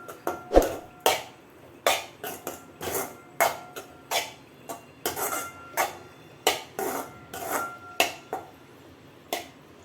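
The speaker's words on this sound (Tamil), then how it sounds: "சாப்பாடு ஆட் பண்ணி மிக்ஸ் பண்ணி எடுத்துக்கலாம் நல்லா கிளறிக்கலாம்" Cooked rice and grated carrot being stirred and mixed in a pan for carrot rice; sharp, rhythmic scrapes and clinks of a spoon against the pan repeat about twice a second, close and clear, with no talking.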